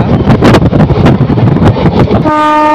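The Narasapur Express runs through green paddy fields between Vijayawada and Narasapur, a loud close rumble of wheels and carriages with rhythmic clatter, ending in a sustained horn blast.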